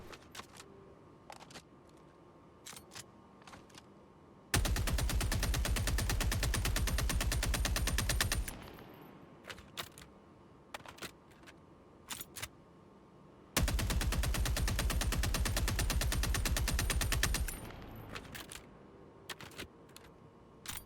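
An assault rifle in Helldivers 2 fires in two long continuous full-auto bursts of rapid, even shots, separated by quieter gaps holding a few scattered clicks and pops.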